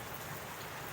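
Light drizzle falls outdoors as a faint, steady hiss of fine rain, with no voices over it.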